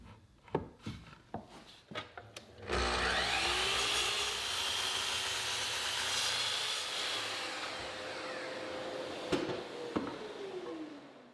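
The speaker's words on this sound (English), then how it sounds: "now I'll cut the long aprons at 39 1/2." A power saw cuts a wooden apron for an outdoor garden bench: a few sharp knocks, then the blade spins up and bites loudly into the wood for several seconds before winding down, with brief clatters afterward.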